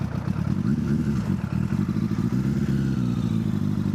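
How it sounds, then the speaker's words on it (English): A 600cc inline-four naked motorcycle pulls away on a sunny day, its steady, loud, throbbing engine drone close to the microphone and slightly clattery, with no speech. "600cc inline 4 naked bike. It is so much fun to ride."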